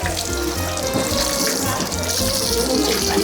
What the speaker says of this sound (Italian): Qui è dove prendono l'acqua per portarli a casa. È il loro pozzo